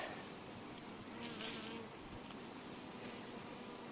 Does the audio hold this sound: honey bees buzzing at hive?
yes